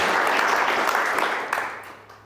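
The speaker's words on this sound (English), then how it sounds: "I just want a massive round of applause for them giving us their time and sharing their story." Audience applause at a founder-stories talk event swells briefly at full strength, then tapers off and fades into quiet over a couple of seconds.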